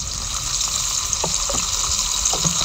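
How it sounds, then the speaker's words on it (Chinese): Scallion, ginger, garlic and Pixian doubanjiang hit a hot wok for a spicy seafood dish, giving a steady, loud, hissing sizzle throughout with a few soft clinks of a utensil against the pan. "葱姜蒜下锅"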